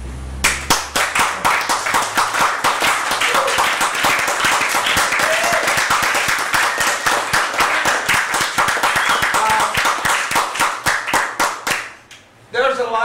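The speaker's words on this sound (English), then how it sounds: "you know, an applause on that" Audience at a talk in Buffalo, New York applauding in a long, loud run of sharp, rapid hand claps, fairly close and sustained before breaking off abruptly near the end.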